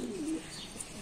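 Faint low cooing of a pigeon kept in a breeding setup during hot Peshawar summer weather, heard briefly under steady background noise.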